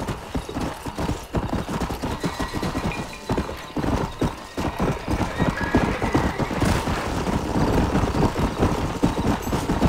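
A white Arabian horse in Red Dead Redemption 2 clip-clops at a steady, rapid gait, its hooves close and loud throughout, with an occasional whinny and faint engine-like rumble behind.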